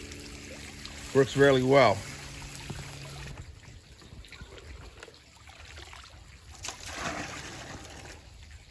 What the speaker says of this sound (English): I just turned it on for a second so you can see the water pouring in there